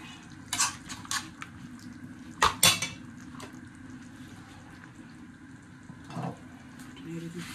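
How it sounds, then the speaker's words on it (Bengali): A utensil stirs a creamy egg mixture in a pan, with a few sharp metal clinks against the pan and soft scraping over a faint background hum. "নেড়ে দিচ্ছি।"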